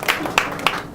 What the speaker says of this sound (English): Again, golf clap.